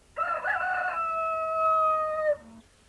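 A rooster crows once on a spring morning, a single loud, drawn-out cock-a-doodle-doo close by that holds steady for about two seconds and then breaks off, followed by a short faint sound and quiet.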